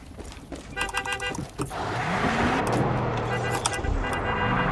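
Car driving in a video game, with a brief horn toot and clicks at first, then a steady engine hum and road rumble building up and holding, with a voice briefly audible.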